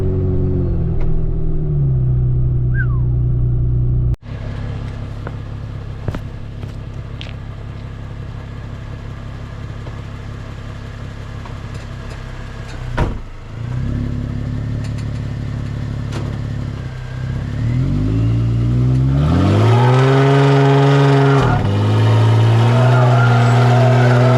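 A supercharged Jeep Wrangler's deep, loud engine rumbles at idle through a new exhaust, blips a few times, then revs hard in rising sweeps near the end, close up with no voices.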